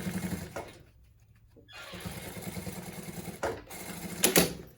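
A sewing machine backstitches on a multi-use document case, running in short bursts with a brief pause, its motor hum and rapid needle rattle close and moderately loud.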